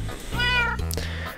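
A single cat meows in Minecraft, one clear rising-then-falling call of about a second, close and loud with no talk over it.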